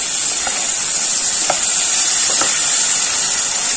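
Cumin potatoes frying in a pan with green chilies, tomato and garlic give a steady, close hiss of sizzling oil, with a few faint stirring clicks scattered through it.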